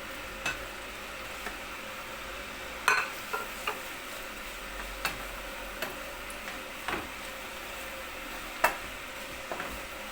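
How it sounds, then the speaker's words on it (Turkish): Minced meat frying in a pan with a steady low sizzle, broken by scattered light taps and scrapes of a utensil as it is stirred, close and fairly quiet, with no talk. "Kıyma iyice kavruldu."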